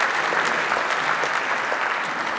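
Steady audience applause fills an energy summit opening session at a university, a dense even wash of many hands clapping at a constant level throughout.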